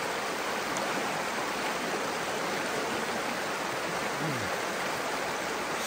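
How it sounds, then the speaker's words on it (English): Eagle Creek in the Great Smoky Mountains flowing, a constant broad hiss of rushing water, steady and unbroken, moderately close, with no voices. "It's a beautiful creek though,"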